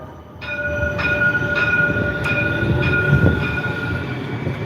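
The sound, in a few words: train passing in Cincinnati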